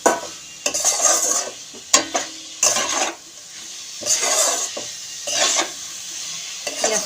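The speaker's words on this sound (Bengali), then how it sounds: "পেঁয়াজটা আমি ভেজে নেব" Onions with salt and turmeric frying in a pan are stirred. Loud bursts of sizzling and spatula scraping against metal come in an irregular rhythm, close up, with brief quieter gaps between strokes.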